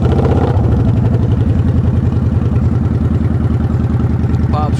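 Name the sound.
Kawasaki Vulcan 900 motorcycle engine starting and idling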